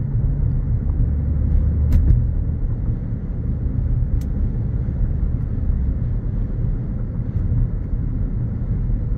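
2024 Lexus NX 250 Premium with 13,359 miles cruising on a test drive, a steady low cabin rumble of engine and road noise throughout, with a couple of faint clicks and no talk.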